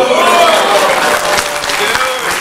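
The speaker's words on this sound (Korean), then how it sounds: "우리 신편아 박수." Applause at a church gathering, with a crowd clapping steadily and fairly loud throughout, mixed with voices.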